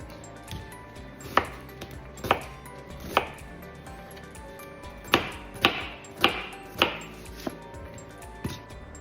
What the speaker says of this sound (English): I'm doing a relatively even chop on those